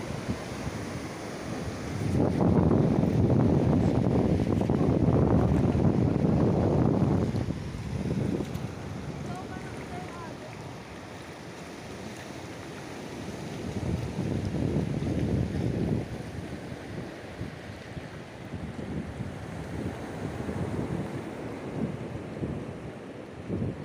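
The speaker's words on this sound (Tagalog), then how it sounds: "Lakas ng alon." Big waves surge and crash around coastal rock formations, a loud sustained roar of surf mixed with wind buffeting the microphone, strongest early on then easing to a steady wash with further swells.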